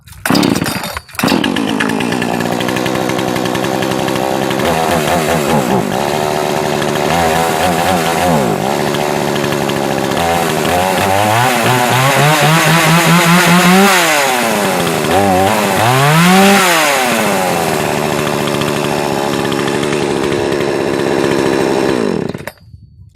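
An Xtreme Power US gas chainsaw engine runs loud and close after starting, idling with a raspy whine and rising and falling as the throttle is revved several times before it cuts off abruptly.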